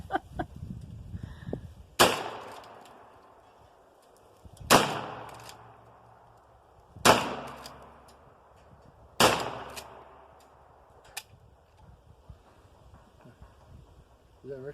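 Four sharp gunshots from Diamondback DB9 and DB380 pistols fired outdoors, spaced a few seconds apart with echoing decays, plus a faint later pop amid wind and low talk.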